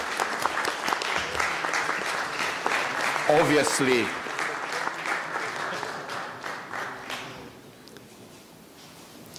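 Conference audience at a General Assembly applauding the Korean staff: sustained, dense clapping from a large room that runs under talk, then tapers off after about seven seconds.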